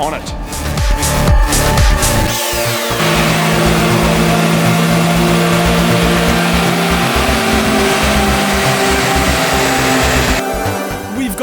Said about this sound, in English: Now let's do a stock run and see how much power the Charade is making before we put the turbocharger